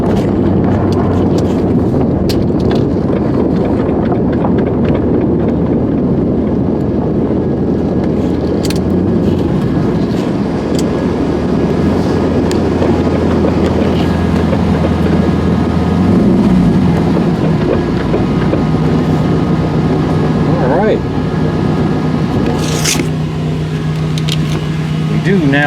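A Porsche 944 fitted with a V8 engine drives on its first ride: a loud, continuous engine drone and road rumble from inside the car, with wind buffeting and a few clunks.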